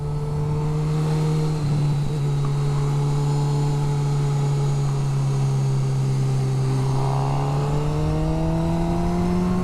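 A 2022 Honda CB1000R Black Edition motorcycle pulls steadily in a high gear on a wet road, a loud continuous engine drone that rises gradually in pitch with wind rushing over it.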